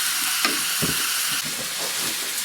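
Potatoes tumble into a hot pan with bacon and onions for a Swiss-German potato salad, setting off a loud, steady sizzle with a few scraping stirs, close and alone.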